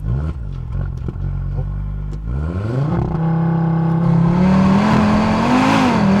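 An Audi RS3 hatchback does a launch-control start: a low idle rumble from inside the cabin suddenly swells into a loud, rising engine roar that climbs steadily as the car pulls hard.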